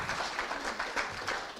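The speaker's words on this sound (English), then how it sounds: "He's starting the round of applause." A rally crowd in Denver gives a steady round of applause, a dense wash of many hands clapping at moderate distance with small swells, continuing without a break for the whole stretch.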